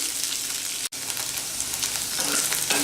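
Okra cooks with a splash of lemon juice in a pan over a low-medium flame, with a steady close sizzle and crackle broken by a momentary dropout, then resuming evenly.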